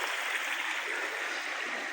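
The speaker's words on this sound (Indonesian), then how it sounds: "Tuh mengalir sungainya." A river flowing along the eastern edge of a plot of rural land beside a village road, a steady close rush of moving water with no other sounds.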